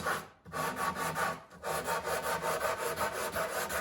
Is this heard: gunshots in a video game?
no